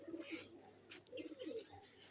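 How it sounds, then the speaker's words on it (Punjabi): Soft, repeated coos of breeder pigeons in a low murmuring rhythm, several birds close by, with a few brief higher chirps mixed in. "ਆ ਬਰੀਡਰ ਕਬੂਤਰ ਕੱਢਦੇ ਆ"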